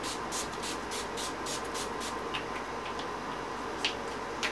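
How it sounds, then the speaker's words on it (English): A series of short, hissing bursts of NYX Matte Finish setting spray, about a dozen in a quick rhythmic run, close and fairly quiet, followed by a few softer clicks. "I'm going to go in with my NYX Matte Finish Setting Spray."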